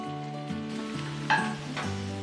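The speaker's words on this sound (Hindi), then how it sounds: "आँच तेज़ करके हम इसमें डालेंगे मटन, जो कि लगभग 1 केजी है" About one kilogram of mutton fries on a high flame, a continuous close sizzle with a steady hum beneath and a brief clatter of stirring partway through.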